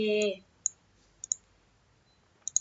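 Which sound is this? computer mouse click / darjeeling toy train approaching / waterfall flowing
computer mouse click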